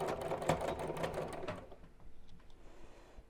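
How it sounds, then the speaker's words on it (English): Sewing machine stitching fabric for a small zipped pouch, a quick rattling run of needle strokes up close that stops partway through, leaving faint ticks and handling noise. "I'm going to turn all of this around and carry on sewing to the next part here"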